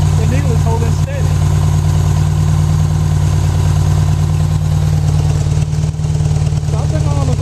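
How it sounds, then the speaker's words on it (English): A 1984 Honda Goldwing motorcycle idles close by with a steady, even throb and a low humming drone, while a voice talks over it. "everything was holding steady, even right now with the idling"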